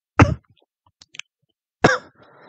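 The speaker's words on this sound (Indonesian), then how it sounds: "sorry, batuk sebentar" A teacher coughs twice, close and sharp, the two coughs about a second and a half apart with small mouth clicks and a quiet breath between them.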